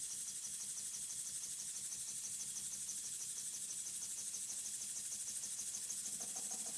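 A small lathe-built steam engine running in, giving a steady, continuous mechanical hum and hiss at a moderate distance with no voices over it.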